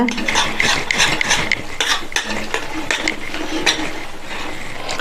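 A spoon scrapes and stirs thick rice flour dough in a pot over a low flame, producing rapid, repetitive clicking and scraping sounds, close and steady.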